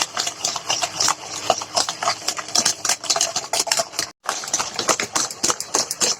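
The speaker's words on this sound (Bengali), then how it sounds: "এই চিনি আর ডিমটা ভালোভাবে ফেটিয়ে নিই" Eggs and sugar beaten hard in a bowl for a homemade cake, a whisk clattering rapidly and continuously against the bowl, close and loud, with one brief pause near the end.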